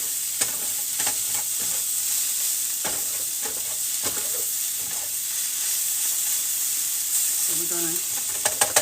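Scallions and spinach sizzle and fry in a pan for tofu steaks and Asian spinach, a steady close crackling hiss with occasional stirring clatter, and a voice speaks briefly.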